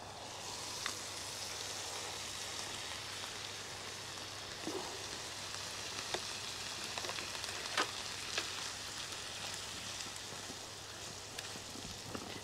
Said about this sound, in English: the onion's cooking now, and I'm going to add the spice mix to it